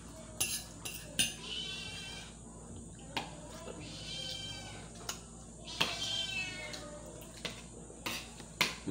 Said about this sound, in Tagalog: Ang pusa, naghanap na pagkain.